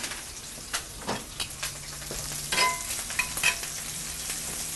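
Soft sizzling in a frying pan as thyme sprigs pop, scattered sharp little pops and crackles, steady and close.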